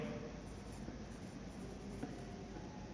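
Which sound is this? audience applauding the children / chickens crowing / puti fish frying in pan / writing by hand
writing by hand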